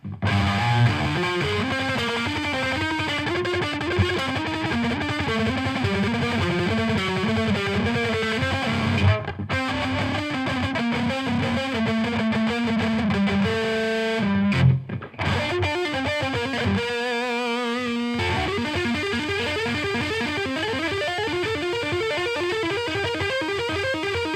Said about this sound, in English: The metal channel with all of its distortion, gain and distortion.